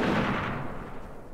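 Gunfire in the Iron Harvest strategy game, a loud burst at the start that decays into a rumbling tail over about a second, with no talk.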